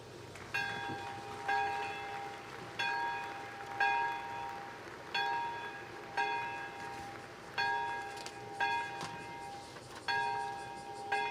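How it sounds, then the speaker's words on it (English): The Nagasaki bell rings at the atomic bomb peace ceremony, about nine evenly spaced resonant strikes with long ringing tones decaying between them, clear and alone without speech. "Now the bell of Nagasaki is ringing, sending out our desire for world peace."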